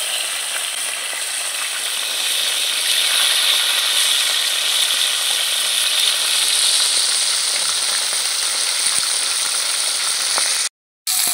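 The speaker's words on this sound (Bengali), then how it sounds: "মাছের মাথা কিন্তু একটু কড়া করে ভাজতে হবে" Fish heads fry crisp in hot oil for Muri Ghanta, giving a steady, close sizzle that runs unbroken, with a brief dropout near the end.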